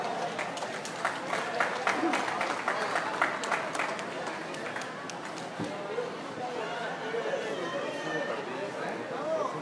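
Applause and crowd chatter at a half-marathon award ceremony in Mazatlán, with a busy outdoor crowd and voices talking over the clapping, which fades into background murmur.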